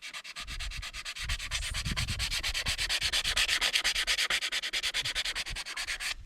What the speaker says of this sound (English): lots of sanding to do now.